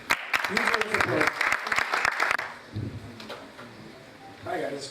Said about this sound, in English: Huge round of applause.